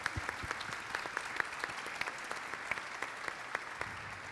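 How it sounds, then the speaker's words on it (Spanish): An audience at a career development panel applauds three panelists, a steady patter of many hands clapping at moderate distance, fairly soft and even. "Le damos un fuerte aplauso a los tres."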